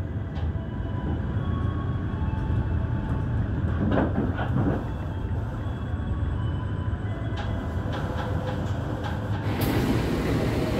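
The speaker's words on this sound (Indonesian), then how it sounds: "Kita lihat lokomotif dinas kereta api Menoreh pada malam hari ini adalah CC 2018315 Depo Purwokerto." At night on track 3 of Pasar Senen station, the Menoreh passenger train with its CC 201 diesel locomotive from Purwokerto depot gives off a steady low rumble and idling drone, with faint clanks and station hiss.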